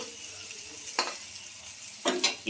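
Fish sizzles gently in hot oil in a pan, a soft steady crackle with a couple of louder scraping stirs.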